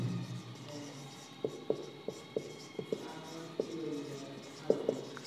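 A pen or chalk writes out the first line of a class 5 unitary-method percentage sum, a string of short, crisp strokes and taps spaced irregularly. The strokes are close and clear, with a faint room hush beneath and no talking.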